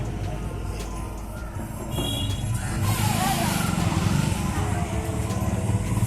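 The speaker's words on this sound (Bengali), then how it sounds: "তো অটো চলে এসছে" An auto rickshaw's engine rumbles on a street, growing louder and closer after a couple of seconds as it arrives, with traffic noise and faint voices around it.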